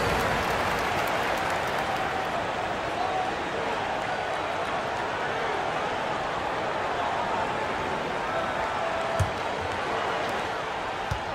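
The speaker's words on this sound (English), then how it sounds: "One more round of applause for your performers." Crowd applause and cheering in the NBA 2K22 basketball video game, a steady broad wash of clapping that holds at moderate level for the whole stretch, with a few faint thumps.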